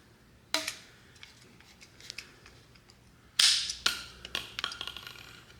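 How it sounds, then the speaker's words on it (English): Radiator hose cutters snap through a plastic fuel draw straw on a 6.0 Powerstroke F250, giving a few sharp, close cracks and clicks separated by quiet pauses. "I'm going to use these radiator hose cutters to cut this"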